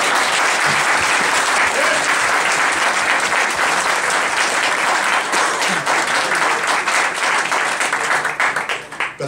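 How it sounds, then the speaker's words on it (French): Sustained applause from an audience honouring a federal MP, dense steady clapping filling the room throughout before tapering slightly at the end. "je pense que ça mérite une bonne main d'applaudissements"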